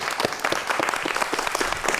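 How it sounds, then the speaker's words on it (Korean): A lecture audience claps steadily as an architecture professor is welcomed to a science-themed talk. The dense, continuous applause rises and falls slightly for its whole length, with no voices over it. "박수 부탁드릴게요"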